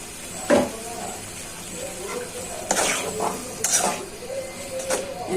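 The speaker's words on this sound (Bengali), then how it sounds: "এখন ভালো করে মশলাটা কষানো হয়েছে আর শুটকি ভুনাটা হয়ে গেছে" A spoon scrapes and stirs spices with dried chepa shutki and sliced green chillies in a frying pan over the stove, with clinking strokes against the metal over a soft sizzle, close by.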